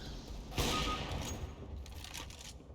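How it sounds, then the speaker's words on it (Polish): Gunfire in the Overwatch video game, a sharp burst of shots followed by a rattling volley, moderately loud under quiet game ambience. "słyszy strzały, widzi strzały"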